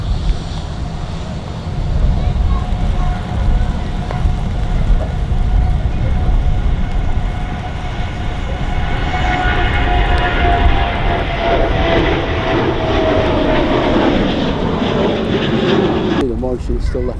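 A Ryanair jet airliner roars loudly, its engine noise swelling and rising in pitch as it takes off from runway 23R at Manchester Airport, with wind rumble close to the microphone.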